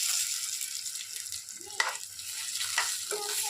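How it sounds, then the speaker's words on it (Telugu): Green chillies frying with turmeric in a pan, a soft continuous sizzle with a few stirring scrapes, fairly quiet and close, no talk. "చూసారండి, బాగా పచ్చిమిర్చి అనేది ఫ్రై అయ్యాయి కదా"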